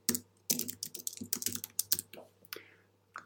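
Quick, irregular keystrokes clatter on a computer keyboard, close and crisp, with a few heavier key presses and a steady low hum underneath.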